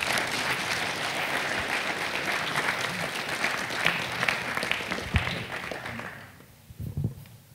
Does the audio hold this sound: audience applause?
yes